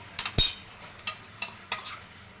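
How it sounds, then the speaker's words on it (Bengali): Chicken being mixed by hand or spoon with soy sauce, vinegar, pepper and ginger-garlic paste in a bowl, giving a few soft clinks and wet stirring scrapes, close and quiet, no voice. "এবার আমি এগুলোকে দিয়ে ভালো করে মেখে নেব"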